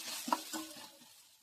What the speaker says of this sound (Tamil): லேசாக வதக்கிக்கலாம்.